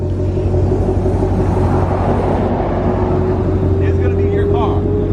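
Steady low engine rumble from a 2020 Shelby GT500 building under acceleration, loud and close throughout, with a voice talking over it briefly near the end.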